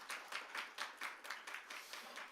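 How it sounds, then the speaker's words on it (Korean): An audience claps at a seminar-style policy forum in a steady run of quiet, evenly spaced applause that sounds somewhat distant. "박수 한번 쳐셔도 괜찮습니다"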